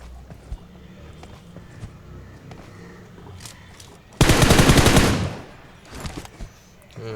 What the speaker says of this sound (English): I heard more shots.